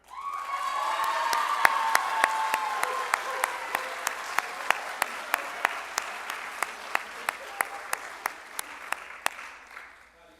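An audience at a school awards ceremony applauds, a dense steady wash of clapping that carries through the whole stretch with a rhythmic beat running through it, then thins and fades at the very end.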